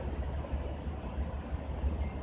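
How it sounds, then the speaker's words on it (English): A train rolls past with a steady low rumble and rattle, continuous and fairly close throughout, with no distinct horn. "There's the other train going this way."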